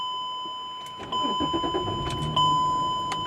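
A silver 2007 Chrysler Pacifica Touring AWD cranks briefly and catches, then settles into a steady idle, with a constant electronic chime tone ringing over the engine.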